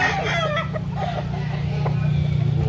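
A rooster crows and clucks close by, calls rising over a constant low hum of background noise.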